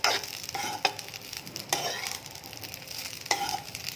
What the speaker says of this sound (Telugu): మరి ఎక్కువగా వేపనవసరం లేదు. ఒక 5 నిమిషాలు వేయించుకుంటే సరిపోతుంది.